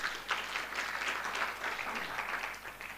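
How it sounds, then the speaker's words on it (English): Conference audience at an evidence summit clapping for a presenter, a continuous mid-level round of applause that swells early and tapers slightly toward the end, with no talk over it. "Can we clap for her, please?"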